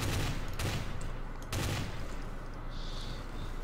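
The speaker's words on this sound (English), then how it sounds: "He's shooting me!" Rapid bursts of gunfire in a space-themed Trouble in Terrorist Town game match, dense and continuous with a couple of sharper louder shots standing out, filling the whole stretch.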